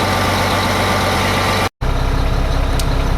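Mack Vision truck diesel engine idling close by, a loud, steady low rumble with a rhythmic throb from the air compressor pumping up, broken by a brief silent gap partway through.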